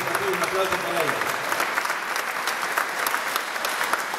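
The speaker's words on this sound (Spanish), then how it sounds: "Un aplauso para ellos" Dense, sustained audience applause for an orchestra at a charango festival concert fills the hall steadily, with a speaking voice briefly audible at the start.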